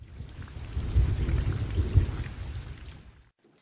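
Heavy rain pours down in a dense, close hiss with low rumbling underneath, building and then fading out abruptly into silence near the end.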